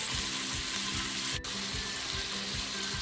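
Meatballs frying in a pan of grease: a constant dense sizzle close by, with rhythmic low knocks of turning or stirring and a brief dip near the middle, no talk.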